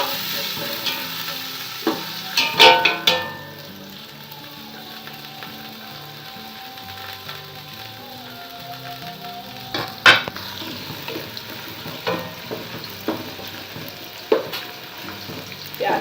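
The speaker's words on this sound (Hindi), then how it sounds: "प्याज फ्राई हो रहे हैं, इनका हमने लाइट गोल्डन कलर आने तक इसको इसी तरीके से फ्राई करते रहेंगे।" Chopped onions frying in hot oil for chicken yakhni pulao give a steady, close sizzle, broken by bursts of rattling, scraping stirring strokes near the start and again later, with no voices.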